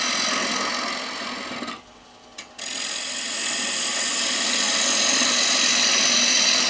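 A lathe gouge hollows a wooden bowl spinning at about 1300 RPM, giving a loud, continuous hissing scrape. It drops out briefly for under a second, with a tiny click, then resumes.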